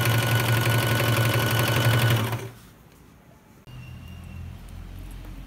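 A sewing machine stitches across the centre seam of a Patiala pant in a loud, fast, steady rattling run for about two seconds, then stops, leaving a low background hum.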